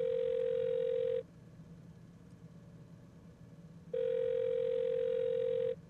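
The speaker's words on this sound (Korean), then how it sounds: "전화해보자. 전화 걸기." A phone ringback tone from a karaoke-themed video game call that goes unanswered: two long, steady electronic buzzing tones, each about a second long, separated by a pause over a low background hum.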